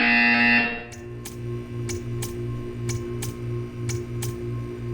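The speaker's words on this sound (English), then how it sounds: "When you hear the buzzer, stare at the art." A loud, harsh electronic buzzer from the Portal 2 test chambers sounds for under a second, then gives way to a quieter steady hum with regular ticking clicks.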